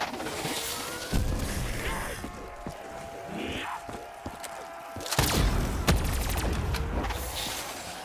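Gunfire in the video game Black Ops 3 Shadows of Evil, with bursts of shots, thuds and mechanical clatter in loud clusters near the start and again toward the end, some voice in between.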